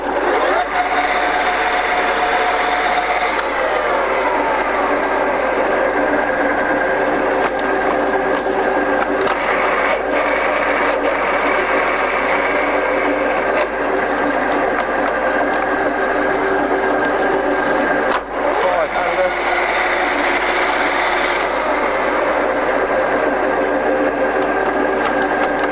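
A Scott 6250 lathe runs through its spindle gears with a steady mechanical drone and whine that stays constant throughout, and a few faint clicks and a voice in the background.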